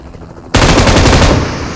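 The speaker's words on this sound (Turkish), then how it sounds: "M249 zamanı." An M249 light machine gun in PUBG Mobile opens up after a brief quiet moment, a loud rapid burst of automatic fire lasting over a second.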